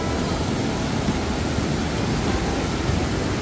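A waterfall in the Hwaak mountain valley rushes with a dense, steady roar, loud and unbroken throughout, with no voices.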